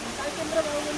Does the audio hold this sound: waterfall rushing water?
yes